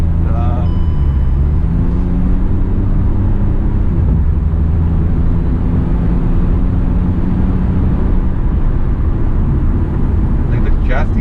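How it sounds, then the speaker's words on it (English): A 2021 Hyundai i20 N Line pulls hard on a highway after a downshift in S mode, its engine rising in a loud droning roar over steady road rumble as a voice talks along. "now I want to overtake, put it in S mode, press the gas and downshift"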